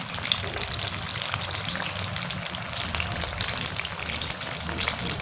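Chili bajji, mirchi fritters, frying in hot oil for street-style preparation, giving a steady dense crackling sizzle with bubbling, close and continuous with no talk.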